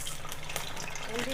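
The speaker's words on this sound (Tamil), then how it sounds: "மீன் குழம்பு வச்சு இறக்கியாச்சு. அடுத்து தாளித்து கொட்டணும். வெந்தயம்" Fenugreek seeds sizzle in hot oil as a tempering for Tamil fish curry, a brief, steady crackling hiss heard up close with no talk.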